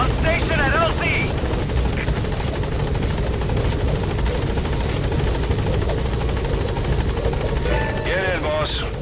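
Support helicopter in Metal Gear Solid V arriving at the landing zone, a steady loud rotor drone and engine rumble throughout, with radio-style voices speaking at the start and end.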